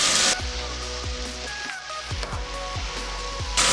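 Sliced okra frying in an oiled pan for a tamarind curry, a steady loud sizzle with several stirring clatters against the pan and a brief quiet dip midway.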